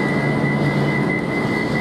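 An Avanti West Coast Class 390 train arrives at London Euston with a steady rumbling roll and a sustained high whine, close and continuous throughout.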